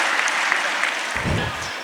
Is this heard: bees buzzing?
no